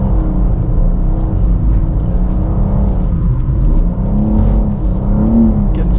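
A 2024 BMW M2 engine revs hard in third gear while the car drifts on a driving-school track, a loud continuous rumbling roar that swells and dips in pitch.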